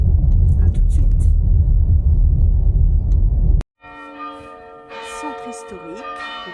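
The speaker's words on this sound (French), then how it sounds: "On a les cloches." Church bells ring in the historic centre of Pézenas, entering after a rumbling stretch with a brief break, then sounding as bright sustained peals that grow fuller and louder toward the end.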